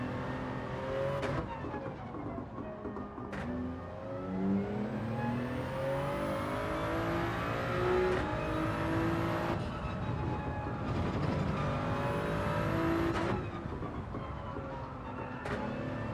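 A racing car laps a circuit in Gran Turismo 7, its engine revving up and down through repeated gear changes with rising and falling pitch, loud and continuous throughout, with no talking.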